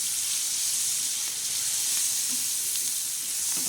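Green chillies fry in oil with a steady, close sizzle and hiss that runs unbroken throughout, with no other sounds over it.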